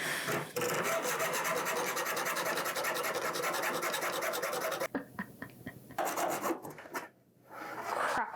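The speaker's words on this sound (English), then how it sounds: "Crap, I'm sawing the table." A hand saw rasps rapidly back and forth through a homemade tiara, the blade also catching the table beneath; dense rhythmic strokes run for several seconds, then break into shorter, halting bursts.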